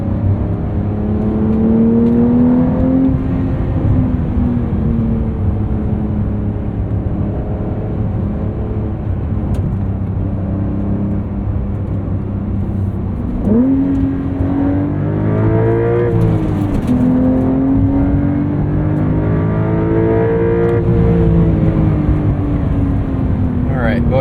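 A 2023 Porsche 911 Carrera T's 3-liter engine revs repeatedly from inside the moving car, loud tonal rises and falls climbing toward high rpm, with someone talking over the steady engine drone.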